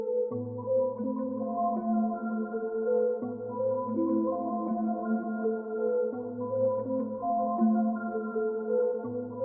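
A pitched-down bell one-shot, dark and processed with effects, plays a simple repeating pattern of a few notes over a low sustained tone for a dark beat, looping steadily with no voices.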